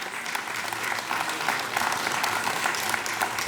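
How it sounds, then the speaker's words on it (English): Steady applause from a large audience at a city oath of office ceremony, honoring a fusion dance team, a dense continuous wash of many hands clapping at an even level throughout. "I'd like another round of applause to the team of Rangmanch"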